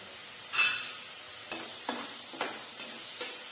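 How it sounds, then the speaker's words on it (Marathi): Paneer curry masala being stirred and sautéed in a pan, with a faint sizzle and several soft scraping strokes of a spatula spread across the stretch, fairly quiet and close with no talk. "चांगलं असं परतून घ्यायचं."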